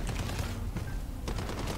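Kar 98 rifle fire in a video game battle, dense overlapping gunshots and distant shooting filling the whole moment without a break, loud and harsh.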